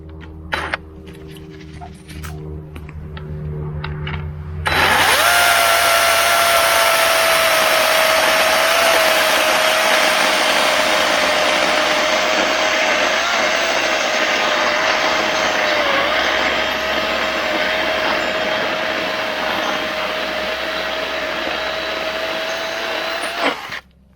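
A Kobalt 14-inch 40V Max battery chainsaw cutting wood starts with a sudden loud whine and holds a steady, high-pitched electric motor drone for about twenty seconds, close up, with no voices.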